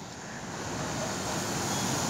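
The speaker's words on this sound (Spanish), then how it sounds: "a las aguas, a las olas del mar Atlántico" Atlantic Ocean waves roll along the seafront at Nagua, a continuous wash of surf rising slightly in loudness, with faint wind and a hint of distant traffic.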